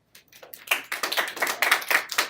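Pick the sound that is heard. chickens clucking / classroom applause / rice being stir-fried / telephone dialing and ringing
classroom applause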